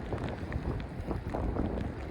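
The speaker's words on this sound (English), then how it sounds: "And it's windy, as you can tell." Gusty wind buffeting a microphone outdoors at night in the rain, a low, fluctuating rumble with soft thumps, heard alone.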